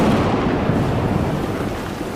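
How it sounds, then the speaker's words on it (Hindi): Thunder rumbles as a storm sound effect setting a dark, ominous night in a spoken horror tale, a loud continuous low roar with a rain-like hiss and no voices over it. "बादल ऐसे गरज रहे थे मानो किसी कयामत का संकेत दे रहे हो।"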